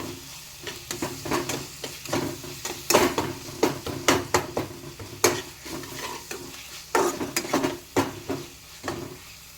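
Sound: stirring cumin and coriander powder into curry in pan

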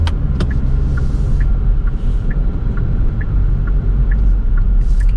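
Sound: Genesis G70 Shooting Brake 2.0 turbo engine, active sound design off

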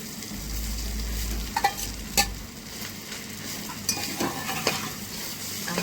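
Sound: khichdi being added and stirred in a hot pan

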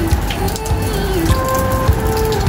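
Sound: rain

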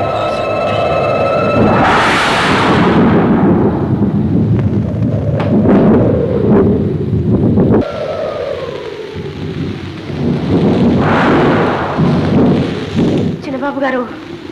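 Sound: wind and rain storm

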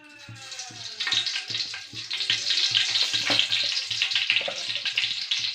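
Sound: mustard seeds frying in hot oil in a pan

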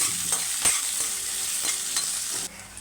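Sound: chopped onions frying lightly in a pan

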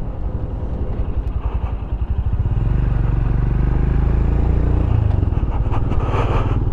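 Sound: Royal Enfield Scram 411 motorcycle being ridden

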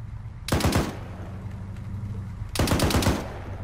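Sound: 50 caliber machine gun firing in video game Arma 3

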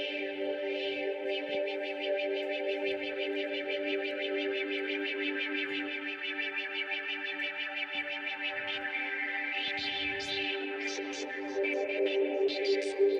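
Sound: Virtual Arp Quadra synth with sample-and-hold LFO on filter

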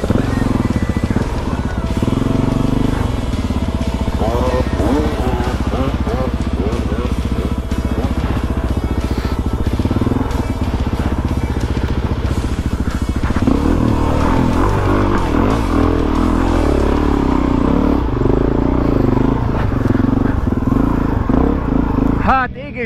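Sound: dirt bike engine starting and revving

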